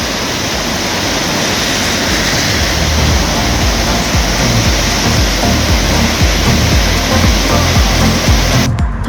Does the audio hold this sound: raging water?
yes